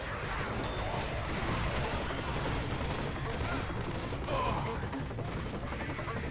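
Gunfire in Left 4 Dead 2, a dense continuous rattle of shots and crashes across the whole stretch, fairly faint and unbroken, with some talk mixed in.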